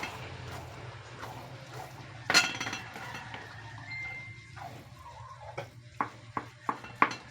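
Food gets stirred in a cooking pot with a soft scraping swirl, while a faint sizzle runs underneath and sharp clinks of the utensil against the metal rim come near the end, growing faster and louder.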